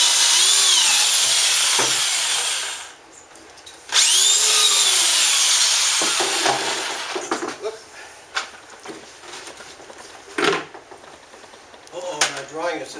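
A power drill bores a hole through a plastic bucket for a self-watering planter, a whining cut that winds down, restarts and then breaks into short bursts and scrapes, close up, with some talking mixed in.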